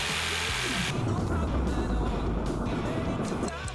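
A small V8 engine model, eight pistons turning a crankshaft, runs close by with a rapid, dense mechanical clatter and whir that starts up after a brief moment and continues steadily.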